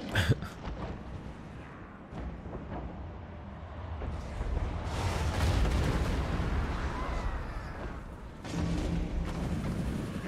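Rattling guns and booming artillery fire in a Total War: Warhammer 2 battle, a dense, continuous barrage of heavy blasts and crackling volleys that swells in the middle and stays loud throughout.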